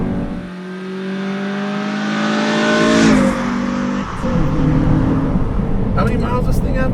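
A 2002 Honda Civic Si EP3 hatchback engine revs hard toward 7,000 RPM, its tone climbing steadily for about three seconds before dropping off into a steady idle-like drone, loud and close, with a voice talking over it.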